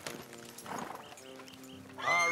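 Horses in the video game Red Dead Redemption 2 give a few soft hoof clops followed by a loud, close neigh at the end, with low game ambience underneath.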